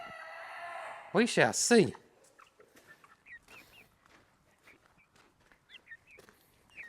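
Chickens and a young rooster cluck, a loud squawking burst up close followed by scattered soft clucks and chirps, with a person speaking briefly.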